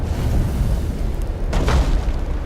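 Spaceship weapons firing in Battlefleet Gothic Armada, a deep continuous booming rumble of distant heavy cannon fire with a sharper burst midway, steady and loud throughout.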